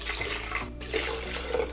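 200 ml of water pouring into an old protein shaker makes a loud, steady splashing rush with a brief dip partway through.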